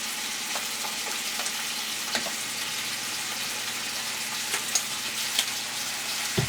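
Meat and cashews sautéing in a hot stir-fry pan, a steady close hiss of frying with a few faint clicks and taps of the utensil, and no one talking.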